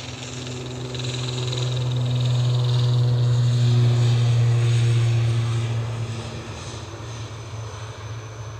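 An Aer Lingus airliner at Edinburgh Airport makes an engine drone that swells to a peak midway, then eases off as it passes, with no talking.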